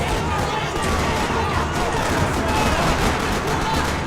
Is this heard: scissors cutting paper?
no